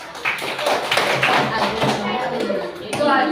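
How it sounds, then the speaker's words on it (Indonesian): A classroom of students claps for a discussion group, producing steady clapping mixed with overlapping children's voices throughout. "Tepuk tangan untuk kelompok 1."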